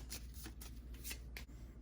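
A deck of game cards for the Marvel United board game being shuffled, with quick repeated riffling bursts close up and no talking.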